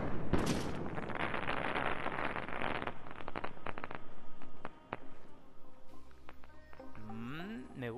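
Rocket explosions in the video game Ark: Scorched Earth, a dense run of booming blasts and sharp bangs over the first few seconds, then scattered hits and lingering rumble while a voice speaks over the game sounds.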